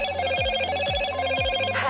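A Moto G6 Plus smartphone rings with a repeating electronic ringtone, a bright warbling tone pattern over low rhythmic pulses, close and clear with no voices.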